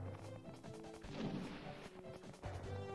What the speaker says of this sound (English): I just hear cannon fire